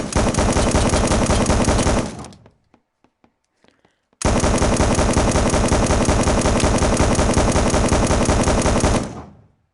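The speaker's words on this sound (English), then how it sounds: "we've shot a 50 cal" .50 caliber machine gun in the VR game Gun Club VR, two long sustained bursts of rapid, very loud automatic fire separated by a brief pause with a few faint clicks.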